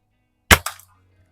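A Haenel 310 4.4 mm BB gun fires once at cans, giving a sharp close crack with a short rattling tail, alone against quiet surroundings.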